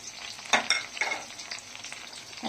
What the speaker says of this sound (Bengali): এখন ফোড়নটাকে হালকা একটু ভেজে নেব